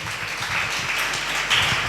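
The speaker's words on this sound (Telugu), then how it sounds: "మీరు చప్పట్లు కొట్టాలి, మీకు మీరే కొట్టేసుకోండి" A church congregation claps during a sermon, making a steady, dense wash of applause that stays even throughout, with no clear voices on top.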